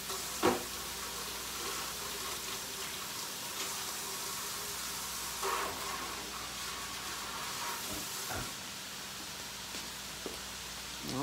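Egg roll filling sizzles and steams in a pan while being stirred, a steady frying hiss punctuated by a few scraping knocks of the utensil against the pan.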